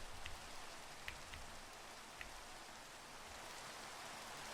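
Steady rain hisses evenly, with occasional louder drops tapping nearby.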